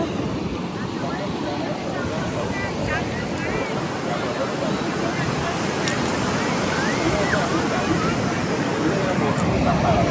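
Sea surf breaking on Ganpatipule beach on the Konkan coast, a steady broad wash of waves with wind noise and distant crowd babble running throughout at moderate level.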